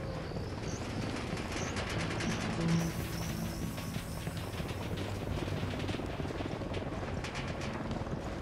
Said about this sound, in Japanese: ドローン飛行中。